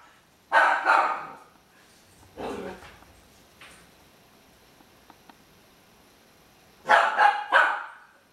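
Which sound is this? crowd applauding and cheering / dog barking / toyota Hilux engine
dog barking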